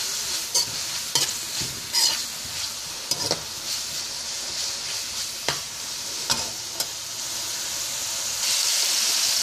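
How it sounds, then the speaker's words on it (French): Chopped onion and garlic frying in a pan for a Haitian bread soup, giving a steady sizzling hiss broken by sharp scraping stirs at irregular intervals, close and fairly loud with no voices. "De l'oignon et de l'ail qui cuisent"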